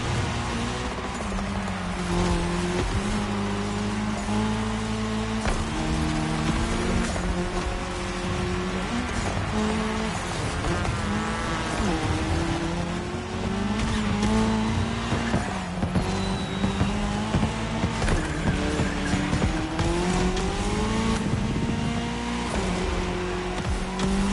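Race cars roar around a tarmac section of a cross-terrain race in The Crew Motorfest, engines droning loud and continuous with shifting pitch, tires squealing and cars passing close throughout.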